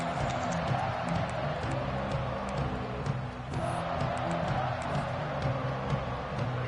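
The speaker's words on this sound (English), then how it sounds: "This crowd ready to make its presence known." A dense, steady stadium roar of a crowd cheering in the College Football 26 video game, continuous and loud throughout with no breaks.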